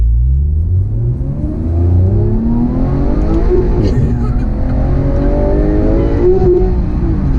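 A Porsche 911 GT3 engine drones steadily while driving through city streets, a loud close rumble with a rising rev partway through.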